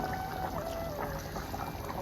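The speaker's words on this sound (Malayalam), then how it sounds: "പച്ച വെളിച്ചെണ്ണ ഒഴിക്കണം കുറച്ച് പച്ച വെളിച്ചെണ്ണ" Raw coconut oil poured into a stingray curry tempered with curry leaves, a steady soft liquid trickle with faint sizzle-like hiss, close and continuous without talk.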